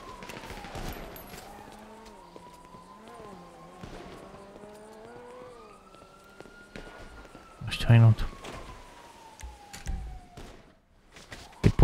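Police car siren in FiveM, the GTA V roleplay game, wails in a long rising and falling sweep, fairly close, mixed with bursts of gunfire-like bangs and thuds while people talk over it.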